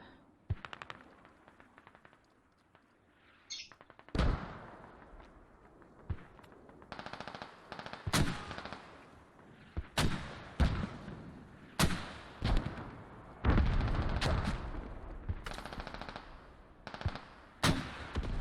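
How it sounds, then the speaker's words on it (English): An artillery strike and gunfire boom and crackle in a military shooter game on the map Kokan, with a burst of loud explosions and rattling shots after a quieter stretch. "it looks like we've got artillery strike on Tempest Estate"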